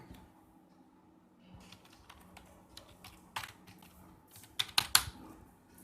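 Quiet, close typing on a computer keyboard, with scattered light key taps building into a brief quicker burst of clicks near the end, heard alone with no voices.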